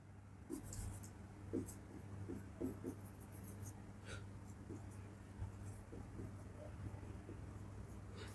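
Faint, intermittent scratchy strokes of writing during an electrical engineering lecture on voltage regulation, with short bursts of marking over a steady low electrical hum and quiet room noise, no speech.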